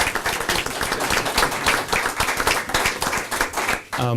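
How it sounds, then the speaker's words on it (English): A city council meeting audience claps for a council member, a close, brisk patter of many hands sustained for several seconds before fading, with little talk. "I want everyone to give this gentleman a round of applause for his work"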